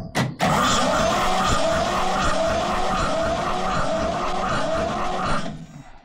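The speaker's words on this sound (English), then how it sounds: "It is just a case of cranking it over" A Ford 4000 classic tractor's diesel engine cranks over on the starter with a fast, steady mechanical churn that holds for about five seconds before cutting off, loud and close, with no voices.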